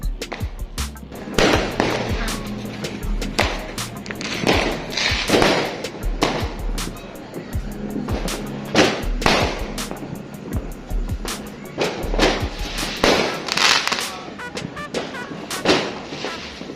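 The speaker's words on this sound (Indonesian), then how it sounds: "kita lihat kembang api yuk." New Year's Eve fireworks crack and boom continuously, a dense barrage of overlapping explosions, some sharp and close, others rumbling in the distance, with no pause throughout.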